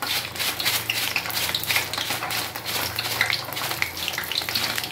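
Garlic and cumin frying in a pan, a steady dense sizzle with crackling and a few light clinks of utensils, close and continuous throughout.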